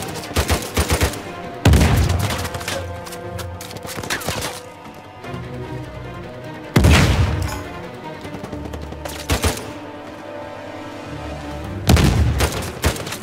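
Uncharted 4 gunfire crackles in loud bursts. Rapid rifle shots are spaced a few seconds apart, with heavy booming impacts and scattered debris between volleys.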